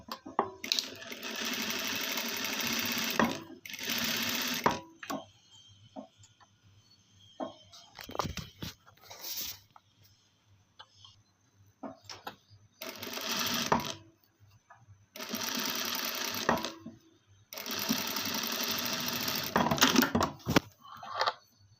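A sewing machine stitches lining onto embroidered fabric in several close, busy runs of a few seconds each, separated by quieter pauses with light handling clicks.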